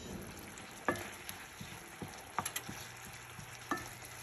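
Broadleaf plantain shoots and hosta leaves heat in a stir-fry pan, giving a soft, steady frying sizzle with a few sharp crackles and pops scattered through it, quiet and close.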